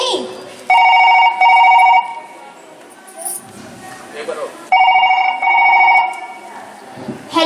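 A telephone rings during a comedy skit at a school farewell party, two loud bursts of repeated electronic bell tone separated by a pause, then returning after a stretch of quieter background noise and voices.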